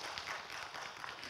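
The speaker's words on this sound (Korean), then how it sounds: "자, 큰 박수로 한번 보내주십시오." An audience claps continuously for a team at a regional newspaper conference. The applause is dense and steady and sounds somewhat distant and soft.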